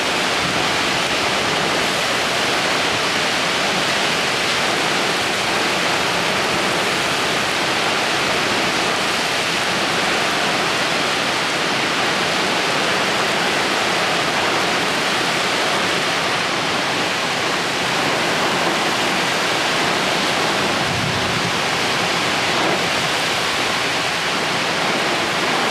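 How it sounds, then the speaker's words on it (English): Very heavy rain pours down in sheets during a severe St. Louis storm with high winds, a dense, loud, unbroken hiss of water holding steady with no voices. "It's raining so hard back there."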